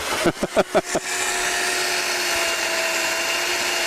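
A few quick revving bursts, then an electric chainsaw carving ice settles into a steady, loud motor whine that continues without pause, at an ice art championship.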